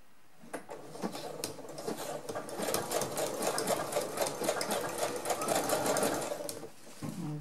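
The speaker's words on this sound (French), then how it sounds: "je vais me mettre donc avec ma position 8 qui va me faire un surfilage et en même temps une couture" A sewing machine set to a combined overlock-and-straight stitch runs a seam on a small backpack, a steady fast mechanical chatter in bursts of stitching with slight pauses.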